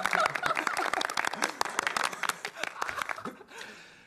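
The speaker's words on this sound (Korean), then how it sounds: "박수." A small group in a Korean school scene, with talk of the school basketball team, claps in a dense burst of quick, close applause mixed with a few chuckles, fading out toward the end.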